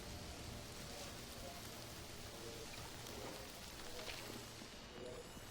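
Soft, steady rainfall in the video game Mind Over Magic, a quiet, even hiss of drops on surfaces that continues unbroken throughout.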